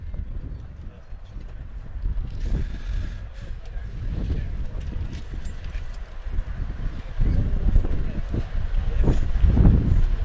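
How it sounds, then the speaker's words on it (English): Strong wind gusts across an outdoor rugby pitch during a final, a rough continuous low rumble buffeting the microphone and swelling louder toward the end, with a commentator talking over it. "Pretty windy, pretty treacherous there for young Matt"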